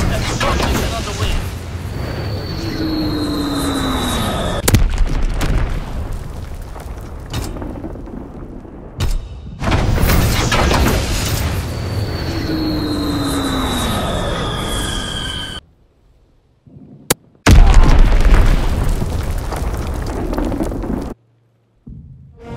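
Blitz-X airstrike bombs in a shooter video game, heavy booming blasts rumbling in long repeated waves with whistling tones overhead, loud and close, broken by brief silences and a sharp final crack.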